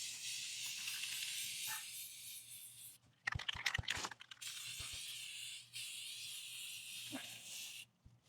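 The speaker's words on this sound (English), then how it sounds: "take a spray paint can and get a good" A spray paint can hisses out gray paint in long, steady bursts, a short break of clicks and knocks in the middle, then more hissing; no voices are heard.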